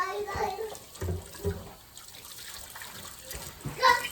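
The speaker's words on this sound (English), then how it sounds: "But you hear the water." Water runs steadily with a soft rushing hiss, while a voice and other chatter come and go over it.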